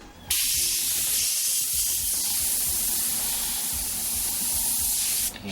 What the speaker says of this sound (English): nice wide spray first. Going where we want, off of each corner.